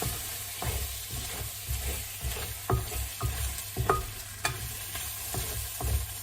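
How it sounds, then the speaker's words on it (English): Salmon frying in a pan for a creamy garlic dish, a steady close sizzle broken by a series of distinct scraping stirs at irregular intervals, with no talking. "Give the fish a bit more stir."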